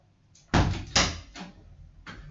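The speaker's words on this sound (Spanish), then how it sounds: "Un segundo que cierro la puerta" A door being closed indoors in a classroom-like room, with a couple of sharp close thuds and knocks from the latch and frame, followed by a softer clack.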